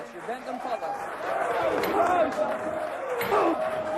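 A crowd at the 1988 World's Strongest Man strongman contest reacts to a referee's decision, a loud sustained mass of shouting and booing voices with individual cries rising above it.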